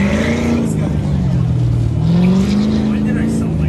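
Race cars at an autocross event during a Good Guys West Coast car show, engines droning and shifting pitch as they pass at moderate distance, steady and loud, with crowd voices mixed underneath.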